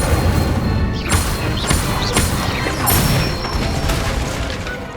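Incendio fire spell cast in Hogwarts Legacy on PS5, a series of crackling, whooshing bursts with sharp impacts, close and loud, amid other spell effects.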